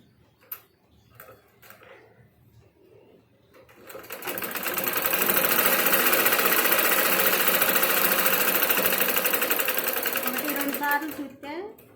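A sewing machine stitches blouse fabric, running loud and steady for about eight seconds after a few quiet handling noises at the start, with a voice speaking briefly before it starts.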